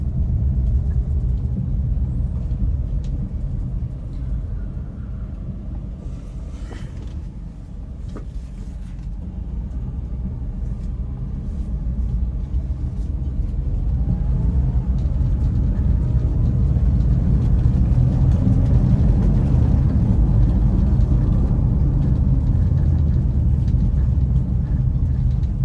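A 2016 Toyota Agya 1.0 G with an automatic transmission, heard from inside the cabin as it drives: a steady low engine and road drone that grows louder and fuller partway through, with no talking.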